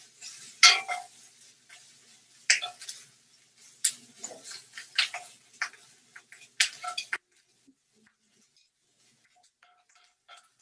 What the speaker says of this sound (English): I'm going to give it a stir and make sure that it gets crispy on other sides as well